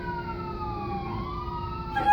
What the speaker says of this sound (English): yeah, you'll hear the fire trucks